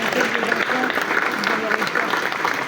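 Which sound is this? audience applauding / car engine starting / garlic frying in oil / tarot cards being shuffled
audience applauding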